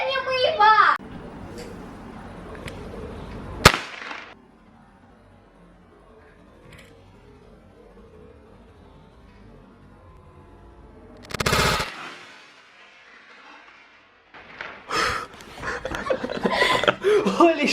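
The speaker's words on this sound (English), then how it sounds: "I'll be throwing this firecracker from that window" A firecracker thrown from a window bursts in one sharp, loud bang, and a second loud blast follows later. Around them come quiet stretches and bursts of voices and laughter.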